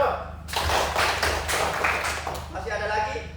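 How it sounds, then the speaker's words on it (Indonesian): A classroom audience claps in a short burst of dense applause lasting about two seconds before it tapers off, with people talking around it. "tepuk tangan untuk Adoro."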